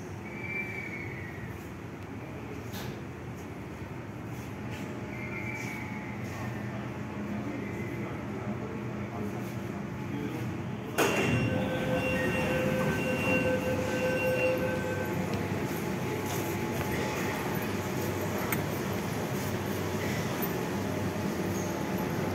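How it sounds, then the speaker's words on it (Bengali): A metro train rumbles steadily on the tracks into an underground station on a line beneath the Ganges river, growing louder with a sharp clunk midway, followed by a sustained hum and faint high squeals. "এই ট্রেন এসে এই প্ল্যাটফর্মের দরজার সাথে একেবারে সমান্তরালভাবে মেট্রো রেলের যে দরজা, সেই দরজা দাঁড়াবে"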